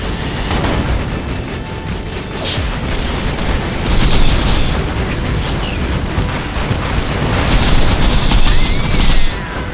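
Borderlands game combat: dense, loud gunfire and explosive booms run continuously throughout, with bursts of sharper crackling shots over a constant low rumble.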